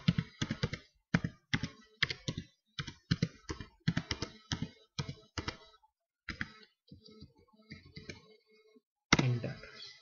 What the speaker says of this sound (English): Type your email or username and password.